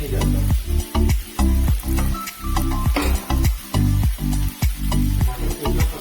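Chopped tomatoes sizzling loudly in a hot pan for paneer butter masala, a steady close frying hiss broken by rhythmic stirring strokes about twice a second, with no voices.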